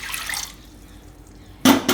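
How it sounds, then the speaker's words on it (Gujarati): Water from a container splashes into a pressure cooker in short bursts, with a brief pour at the start and two louder splashes near the end, close by in a quiet kitchen. "હવે કુકરમાં આપણે થોડુંક પાણી નાખી દેવું"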